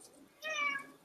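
A pet cat gives a single short meow indoors, moderately close, with faint room noise around it.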